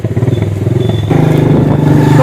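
A motorcycle engine idles and putters close by, a steady rapid thumping that grows slightly louder partway through, with no talking over it.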